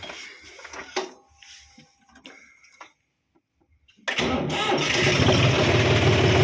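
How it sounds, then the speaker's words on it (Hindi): A John Deere tractor parked outdoors in cold weather is heard with ticking and brief starter attempts, then a short quiet gap before the engine catches and settles into a steady, loud, slow idle at about 700 rpm. "तो ये है भाई अपने ट्रैक्टर के आरपीएम स्लो"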